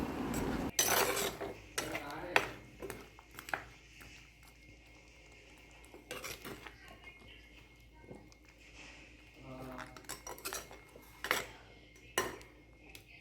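A crab roast with coconut milk is stirred in a pan, with a spoon clinking and scraping against the metal in sparse, uneven knocks and clatters at modest volume amid quiet room noise.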